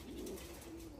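A pigeon gives one soft, low coo in a quiet room, faint and close, with no voices.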